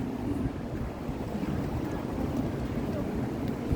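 Steady, broadband wind rushing over an open outdoor space, loud and continuous with no clear breaks, like a breezy deck by the water.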